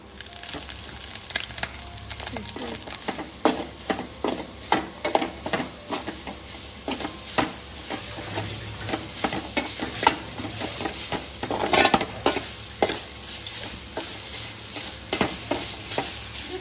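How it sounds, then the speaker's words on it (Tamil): Grated coconut dry-roasting in a pan for sweet paruppu opputtu, stirred steadily with a run of sharp scraping clicks over a faint crackle, close and without speech. "விட்டு தேங்காயை நம்ம நல்லா வறுத்துக்கணும்"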